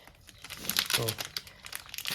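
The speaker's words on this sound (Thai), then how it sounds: "ขอฉีกตรงกลางดีกว่า" Plastic packaging of a DID 428 HDS motorcycle chain is torn open and crinkled up close, a soft scattered crackling that swells briefly in the middle, fairly quiet overall.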